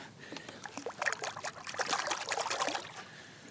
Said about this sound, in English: I'm going to just rinse this off in the lake water.